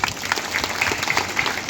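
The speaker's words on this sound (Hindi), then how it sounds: "ताली मारेंगे।" A church youth gathering breaks into a short burst of lively applause, many hands clapping at once for under two seconds.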